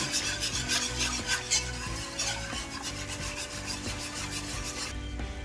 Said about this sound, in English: just watch it and just continuously stir it and just keep an eye out for it so it don't burn